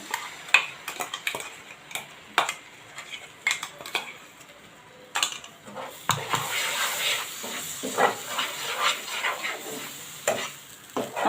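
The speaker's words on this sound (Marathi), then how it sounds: "याच्यामध्ये ही कांद्याची पेस्ट घालत आहे" Onion paste going into a pan of spices for dhaba-style matar paneer, the gas switched off, gives soft stirring scrapes and light sizzling, with clicking spoon taps early on and a steadier frying hiss later, close and alone.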